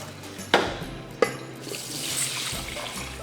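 Water and chicken stock pour into a pot of rice with a couple of sharp splashes, then run on as a steady, close liquid rush.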